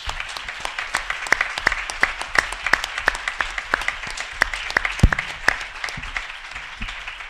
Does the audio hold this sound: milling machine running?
no